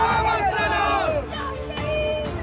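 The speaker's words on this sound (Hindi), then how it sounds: "मार्च के दौरान भी भीड़ ने जमकर भड़काऊ नारेबाजी की।" A crowd at a PFI rally in Kerala shouting provocative slogans, a dense mass of loud overlapping voices chanting and yelling together without a break.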